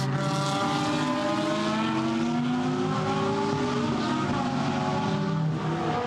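GT race cars, a BMW M6 among them and a Lamborghini, roar through the 2018 Blancpain GT Sports Club main race at Misano, a loud, steady engine howl with layered tones that rise and fall as the cars pass.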